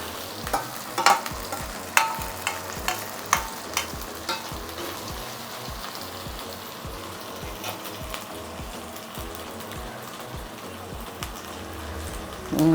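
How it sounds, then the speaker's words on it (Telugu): Ginger fries in a pan, a constant soft sizzle joined by scattered sharp clicks of stirring, louder in the first seconds and then steady and close. "1 నిమిషం అల్లం వేగాల."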